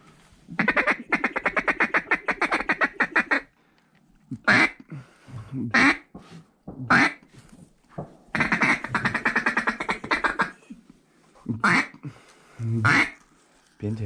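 Pintail ducks quacking in a flooded cornfield, bursts of rapid, loud, close quacks repeating in long runs with short gaps, interspersed with brief single calls.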